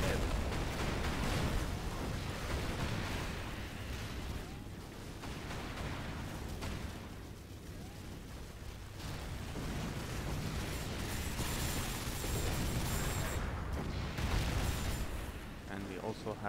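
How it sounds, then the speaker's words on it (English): A long-range missile attack with heavy hardware in the strategy video game Rise of the Reds: dense, continuous rumbling explosions and artillery-like booms form a loud, unbroken wall of battle noise. "the attack has now begun with the heavy hardware. We have the long-range missiles."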